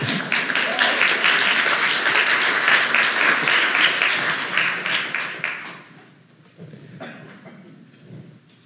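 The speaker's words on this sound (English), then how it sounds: "Do I hear applause?" An audience applauds loudly and steadily at a talk, dense clapping filling the first six seconds before thinning out and fading to scattered claps and quiet room noise.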